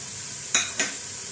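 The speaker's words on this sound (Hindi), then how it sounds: "कीमे को इसमें थोड़ा सा भूनने के बाद अब हम ऐसा करेंगे कि जो स्पाइसेस हमारे पास हैं, ये सारे मसाले इसमें डाल देंगे" Minced mutton keema fries with spices in a pan, giving a soft, steady sizzle broken by two quick, close scraping stirs.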